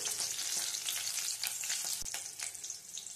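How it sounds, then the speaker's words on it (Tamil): Dried red chillies fry in hot oil for a spicy tomato chutney, giving a close, steady, bright crackling sizzle with small pops throughout. "இது ஒரு நிமிஷம் ஃப்ரை ஆகட்டும்"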